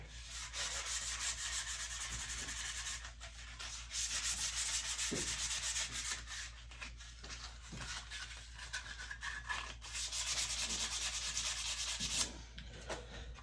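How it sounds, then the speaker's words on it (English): Close, continuous sanding of a wooden rifle stock during a re-sand and restain, long rubbing strokes with brief pauses and occasional light knocks, no speech. "we've got it sanded down, the original stain stripped off"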